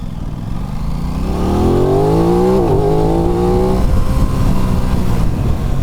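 An Aprilia RS 660 parallel-twin sport motorcycle accelerates hard and loud, its engine note climbing through the gears with a quick, clipped upshift from the quick shifter midway, then pulling on at high revs.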